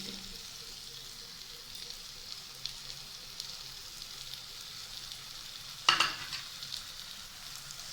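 Yogurt beaten with sugar is stirred into okra gravy frying in a pan, giving a soft continuous sizzle with a brief louder scrape of the spoon near the end, and no talking.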